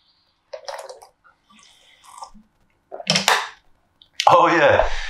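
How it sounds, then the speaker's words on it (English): Someone takes a couple of sips of water up close, giving short wet slurping bursts with quiet gaps between them and a breathy voiced exhale at the end. "Take a couple sips of water"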